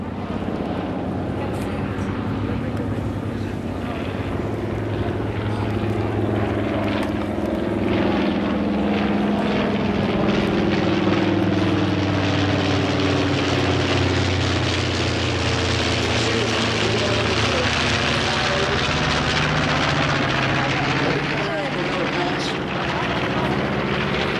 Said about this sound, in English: You can see there also are a number of fighters.